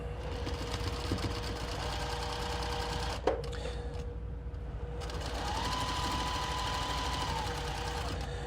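Sewing machine stitching a quarter-inch seam through a glued churn dash quilt block, a steady close mechanical whir that runs continuously with a brief click partway through.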